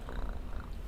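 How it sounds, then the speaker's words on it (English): A cat purring up close in a brief burst of low, fluttering rumble, soft and steady, heard alone. "altering the sound effect of a cat"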